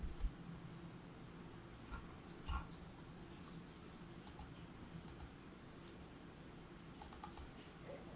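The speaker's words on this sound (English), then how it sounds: "right click on DIE, hold down the right click, drag it to the desktop" Faint, crisp computer mouse clicks come in small clusters, single and double presses spread over several seconds against a quiet room hiss.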